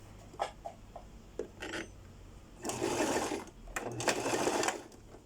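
A sewing machine stitches fabric along a 1 cm seam on a bodice or blouse, first in a few short clattering bursts, then in two longer runs of rapid stitching, close and fairly quiet, with no talking.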